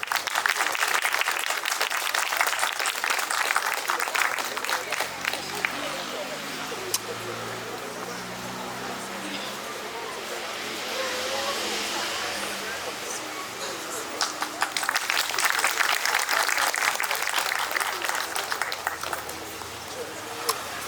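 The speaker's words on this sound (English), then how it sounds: "Please give her a round of applause." An audience at an International Women's Day and Holi festival event claps steadily in a sustained round of applause, dense and fairly loud throughout, swelling again toward the end.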